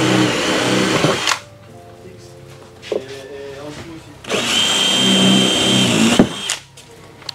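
A power drill bores through material while accessories are fitted to a new jet ski, two long loud whirring bursts separated by a quieter stretch of shop noise, close to the listener.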